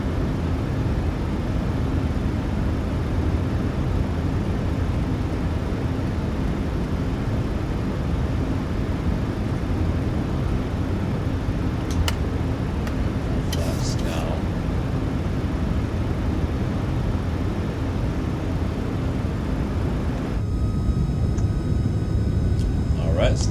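Boeing 737-800 on final approach in a flight simulator game: a steady, loud broadband jet and airflow roar that continues unbroken, with a few brief higher clicks near the end.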